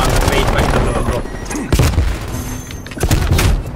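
Rapid gunfire bursts and booming impacts from a tactical shooter video game, loud and dense with thuds, while a player talks over the action.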